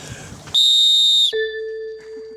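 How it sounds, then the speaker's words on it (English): A loud, shrill whistle blast lasting under a second, followed by a steadier lower whistle tone that fades out. "Nice whistle, Bill."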